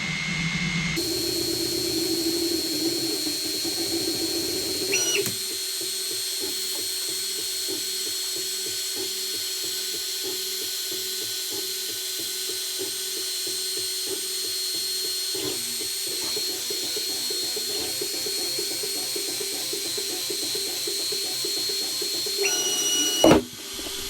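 A laser engraver works through a test grid, emitting a steady high whine over a rapid, regular ticking from the moving head, with short pauses and shifts in tone as it travels between passes.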